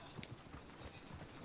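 Video game horse hooves clip-clop faintly in a loose, uneven rhythm over quiet background noise, with no clear speech.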